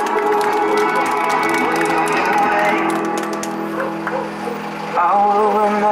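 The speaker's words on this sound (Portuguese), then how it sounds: "Pode bater palmas aí, pessoal." An audience claps and cheers for Dona Nininha at a Mother's Day event in São Paulo's east zone, loud and close, mixed with tonal voices or music that swell again near the end.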